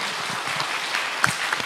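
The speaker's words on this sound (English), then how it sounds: "Please give applause to our speakers today." An audience applauds the speakers at an international economics conference seminar, steady dense clapping throughout, moderately loud and slightly distant.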